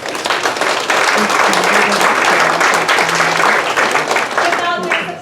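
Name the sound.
audience applause at a theatre performance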